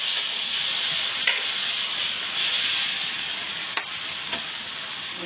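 Ground beef sizzles steadily in a pan for a carbonara, a constant close frying hiss broken by a few sharp clicks of stirring.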